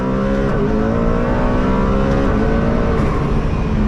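A Pagani Huayra BC hypercar accelerating hard at full throttle down a straightaway, a loud, sustained engine roar from inside the cabin with quick upshifts breaking the rising tone.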